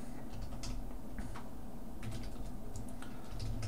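Code being typed on a computer keyboard: a quiet, irregular run of soft key clicks over a steady low background hum, with no talking.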